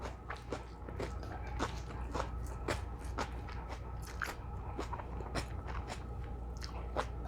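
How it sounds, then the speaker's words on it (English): Loud, close crunching of raw vegan food being chewed, repeated crisp bites in an irregular rhythm over a steady low background hum, with no talking. "Don't you guys hear me crunching like crazy."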